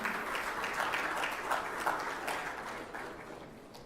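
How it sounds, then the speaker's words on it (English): Audience applause at a medical conference session, a steady wash of many hands clapping that fades slightly toward the end, with no voices over it. "So big round of applause for Dr. Vaishya and Dr. Singh."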